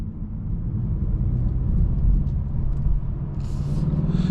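A 2026 Mazda 3 Turbo Premium Plus sedan accelerates in sport mode onto a highway. A deep, steady engine rumble mixed with road noise builds slightly as revs climb, heard from inside the cabin with a brief hiss near the end and no talking.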